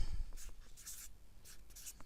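Pen scratching out a prediction on a playing card during a queen sandwich card trick, a few short strokes in quick bursts, close and quiet, with no voice.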